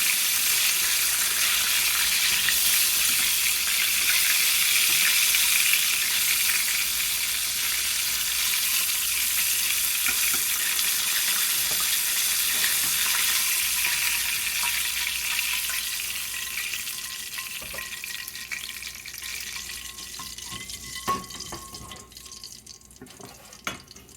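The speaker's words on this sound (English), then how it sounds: "when you know they're cooked when they start to float when you do them in the deep fryer" Rangoons deep frying in hot oil in a deep fryer, a dense steady hiss and crackle that fills the space, easing slightly toward the end, where a few sharp pops and clicks stand out, close and loud.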